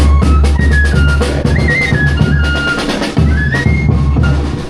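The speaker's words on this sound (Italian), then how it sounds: "E un fischietto" A shrill whistle toots a few short rising notes over a loud street band and crowd noise, sitting above the steady brassy din.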